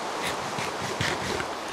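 Rain pours steadily in the Minecraft video game, a continuous broad hiss with faint rolling swells and no voices over it.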